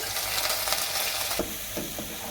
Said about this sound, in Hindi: सबसे पहले पैन में हमने 3 टेबलस्पून चॉप्ड गार्लिक ऐड किया है।